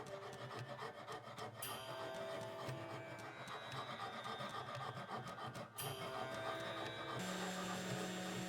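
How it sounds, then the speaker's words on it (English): A hand rasp files the side profile of a handmade softbait fishing lure, giving steady back-and-forth scraping strokes that are close and fairly quiet, with brief pauses between passes. "I decided to take off the excess from the side profile with my trusty rasp"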